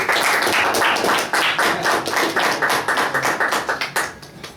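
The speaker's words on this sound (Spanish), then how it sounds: "démosle un aplauso a Valente." An audience applauds a speaker at an academic colloquium, a dense, loud burst of many hands clapping steadily before tapering off toward the end.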